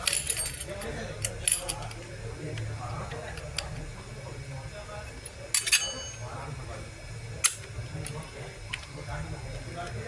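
Small metal clicks and clinks from a hard drive platter and spacer ring being seated during disassembly, a few sharp ticks scattered over low room noise and quiet talk.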